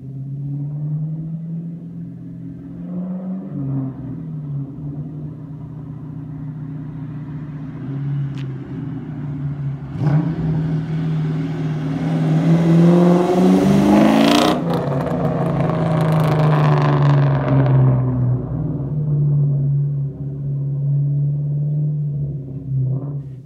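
2001 Mustang GT V8 with a Borla Stinger exhaust, loud close idle rumble that swells into a revving roar midway and settles back to a deep burbling idle.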